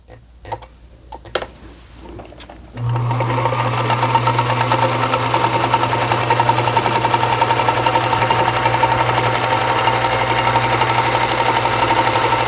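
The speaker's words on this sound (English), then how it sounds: "And now I'm going to sew again." After a few soft handling clicks, a sewing machine starts up and runs steadily, a loud, even mechanical whir with a rapid ticking rhythm as it stitches a quilt block seam.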